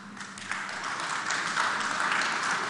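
Audience applause at a tech industry congress, a dense, steady wash of many hands clapping that holds at an even level through the whole stretch, with no voices breaking through.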